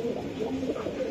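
Pet pigeons, a breeding pair kept for sale, give a soft, short burst of throaty cooing close by with no other sound.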